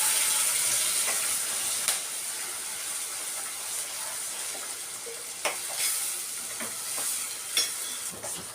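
Masala paste with coriander powder frying in hot oil for an egg masala gravy, a steady bright sizzle and hiss broken by occasional sharp pops and stirring scrapes, close and continuous without speech.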